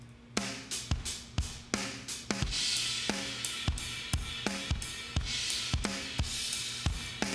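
A punchy, compressed drum kit plays a steady groove, with tight kick and snare hits and bright, sustained cymbals filling the space between beats.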